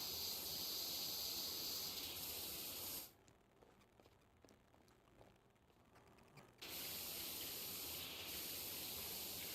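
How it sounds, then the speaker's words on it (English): Pressure washer in PowerWash Simulator blasting rust off a grimy surface: a loud, steady hissing water spray that cuts out for a few seconds midway, then resumes at full force. "Just spray the rust off with water."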